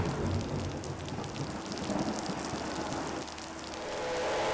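Monsoon rain falls steadily at the Sepang racing circuit in Malaysia, a soft, even hiss of drops on surfaces, faint and continuous with no voices.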